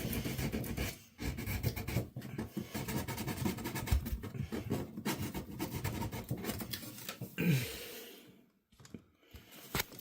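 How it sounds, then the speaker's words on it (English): A burred pipe end being sanded during a bathroom renovation, giving a continuous close, quiet rasping and rubbing that fades out near the end. "But I gotta sand up the burrs."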